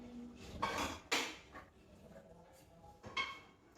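Metal pots and a fry pan being handled in a kitchen, with a few sharp clanks and scraping knocks separated by brief pauses.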